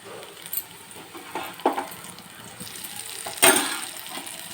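Onions and ginger paste fry in a pan for a fish curry, giving a soft steady sizzle broken by a few scraping stirs, the loudest burst near the end.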